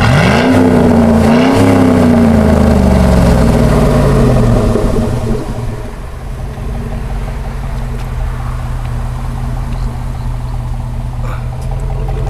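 Exhaust of a 2008 Chevy Avalanche on 28-inch wheels revs loudly up and down for a few seconds, then settles into a steady, rumbling idle close by.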